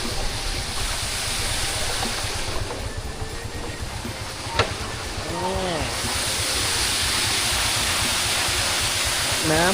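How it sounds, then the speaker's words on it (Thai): Small waterfall on a rural village route, a steady broadband rush of falling water heard close and loud throughout, with a brief sharp knock and faint bird chirps partway through. "น้ำตกจุดน้อยๆนี่แหละพี่น้อง"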